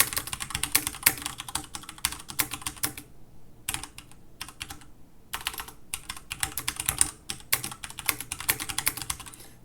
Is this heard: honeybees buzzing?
no